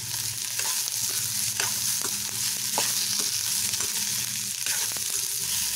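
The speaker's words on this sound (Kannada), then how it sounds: "ಈಗ ಸ್ವಲ್ಪ ಫ್ರೈ ಮಾಡಿದ್ರೆ ಸಾಕು ಫ್ರೆಂಡ್ಸ್" Chilli, tamarind and coconut pieces frying in a pan for radish chutney, a loud constant sizzle with occasional spatula taps and scrapes, close and without speech.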